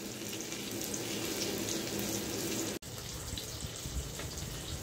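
Rawas fish with crushed garlic fries in a pan, giving a steady, close, full sizzle with no pause apart from one brief cut.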